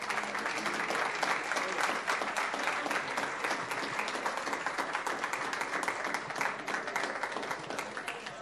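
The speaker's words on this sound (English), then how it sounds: "let's give him a big round of applause." An audience at a Palm Beach County gathering applauding, a dense, sustained round of clapping from many hands, steady and even throughout, heard at a moderate distance.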